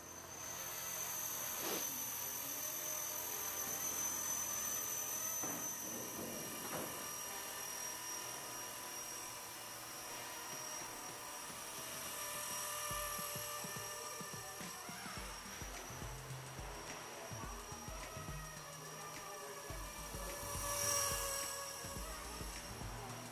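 High, steady whine of a small remote-controlled helicopter's rotor and motor, with the pitch shifting slightly as it hovers and moves at a moderate distance.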